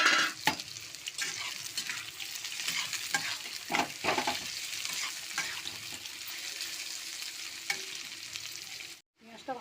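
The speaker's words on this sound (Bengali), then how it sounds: "এবার আমি প্রথমে পেঁয়াজটাকে ভেজে নেবো ওই তেলে।" Onions fry in mustard oil in a wok, giving a steady close sizzle with repeated scraping stir strokes throughout, and no voices.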